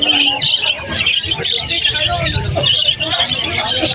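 Many birds chirp and squawk at a bird seller's stall, with bright overlapping calls running steadily under a constant hubbub of nearby voices.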